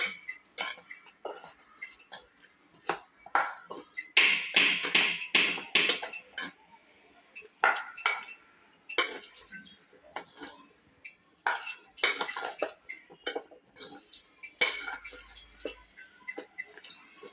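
A spoon stirring potato tomato masala curry in a metal pan, repeated close scraping and clinking strokes in an irregular rhythm with short pauses, alone without talk.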